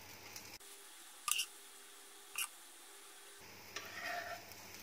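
Potato masala filling spooned onto a singhara (water chestnut flour) dosa frying on a pan over medium gas, with soft sizzling, a few short scrapes and stirring clinks, and a louder sizzle at the end.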